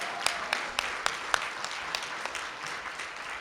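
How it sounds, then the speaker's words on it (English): Applause from the audience at an awards ceremony, a steady wash of many hands clapping at moderate distance, fairly quiet, with a few sharper individual claps standing out. "another round of applause for everybody, seriously."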